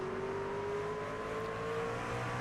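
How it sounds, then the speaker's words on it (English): Race truck engine in the iRacing game at Martinsville, a steady droning whine as the driver feathers the throttle out of turn four, a continuous even engine note with slight pitch drift and no talk over it. "You can hear him feathering that throttle coming out of 4 to keep the truck moving forward"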